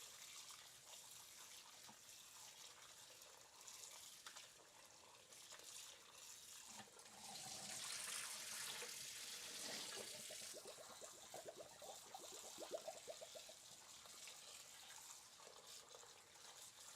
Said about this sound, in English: then we're gonna want to rinse these out.